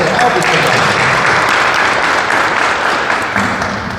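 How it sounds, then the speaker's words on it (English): Loud, sustained applause from an audience at the Boys & Girls Clubs of Polk County Youth of the Year competition, honoring youth competitors, dense and steady throughout and easing slightly at the end. "Give them a round of applause"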